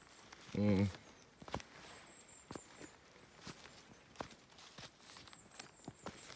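Footsteps crunch along a Carpathian forest floor during a mushroom hunt, faint and irregular, with a brief voice early on.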